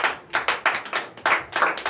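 A church congregation claps in an uneven rhythm, about ten sharp claps in under two seconds, loud and close, with no voices.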